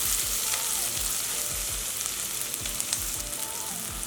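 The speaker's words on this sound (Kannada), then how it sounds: "ಈರುಳ್ಳಿ ಸ್ವಲ್ಪ ಕಲರ್ ಚೇಂಜ್ ಆಗಿದೆ. ತುಂಬ ಫ್ರೈ ಆಗೋದು ಬೇಡ ನೋಡಿ" Onions fry in a pan over a gas flame for Davanagere-style mandakki, a puffed rice snack. A steady, close sizzle crackles throughout with faint stirring and no talking.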